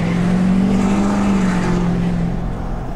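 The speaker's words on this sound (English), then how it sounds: "stepping on it in a truck, just making all the noises" A truck's loud engine roars steadily as it accelerates, its deep drone holding strong before easing slightly at the end. No voices.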